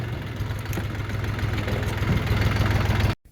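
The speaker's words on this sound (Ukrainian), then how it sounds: "Робить чудово, дуже гарний чотирьохтактний двигун, справно працює" The four-stroke engine of a Skaut TY 254 mini tractor runs at a steady, loud idle with a low, even chug, close by, then cuts off abruptly at the very end.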